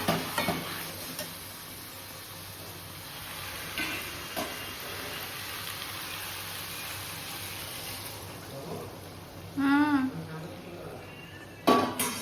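Chicken curry sizzles in a pot as oil separates, with steady frying hiss and intermittent scraping stirs throughout, and a brief clatter near the end.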